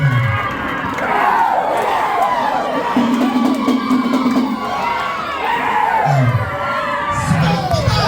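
A crowd at an organisational inauguration ceremony in Bali cheers and shouts loudly, a dense sustained roar of voices with whoops rising and falling throughout.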